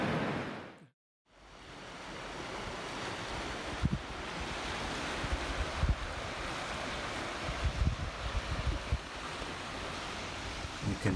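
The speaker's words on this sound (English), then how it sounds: "The waves were pretty good size and a lot of them, but really, really fun." River rapids on the Yangtze surge in a constant loud rush of churning water, mixed with wind buffeting the microphone after a brief dropout.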